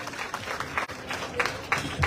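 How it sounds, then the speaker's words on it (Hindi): Audience applause greeting a speaker at a Samajwadi Party protest rally, a dense patter of clapping from a large crowd, fairly loud and continuous with a brief dip midway. "जोरदार तालियों से स्वागत कीजिए"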